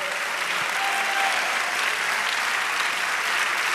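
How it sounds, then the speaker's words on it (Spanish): A church congregation at a jubilee service in Poughkeepsie, New York applauds for the King, a dense, steady wash of clapping that holds at an even level throughout without pause. "Dale un aplauso a nuestro Rey"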